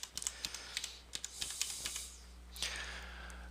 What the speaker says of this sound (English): I'm going to type out the word champion